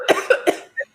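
A woman coughs on a live dating and marriage talk show: three sharp close coughs in quick succession followed by a brief softer throat sound.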